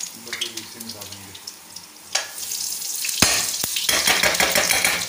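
Butter hitting hot cooking oil in a pan while chicken handi is being prepared, breaking into a loud, broad sizzle that builds after a quieter start with a few clinks.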